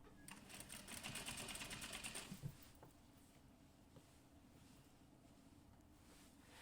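Close, quiet whir of a sewing machine stitching bias binding at a neckline, running for about two seconds before stopping, after which only soft room hiss remains.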